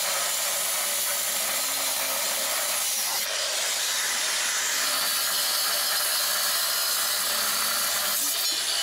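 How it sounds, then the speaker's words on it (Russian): A sparkler burns with a steady, loud hiss while being used on corroded parts of a rare Georgian KAZ 4x4 truck, with a brief sharper flare midway and no talk. "Будем использовать бенгальский огонь."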